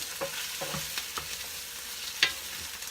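Steady sizzling of sausage frying in a non-stick skillet, a continuous hiss broken by the scrape and clack of a bamboo spoon stirring.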